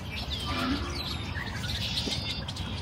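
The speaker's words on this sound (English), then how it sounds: "Do y'all not hear all these birds" Outdoor birds chirp and tweet over a steady background hum, with several short calls scattered through the clip at moderate loudness and no voices.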